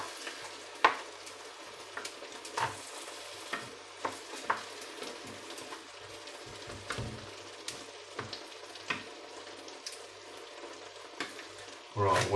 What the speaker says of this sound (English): I'll just give that a little bit more of a mix.